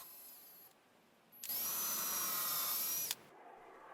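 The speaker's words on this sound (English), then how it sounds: "Mark and pre-drill the 2 holes." A power drill pre-drills two holes in wood for a home-made sling-rifle, running as one loud, steady, high-pitched whine of about two seconds, close by, after a quieter start with no talk.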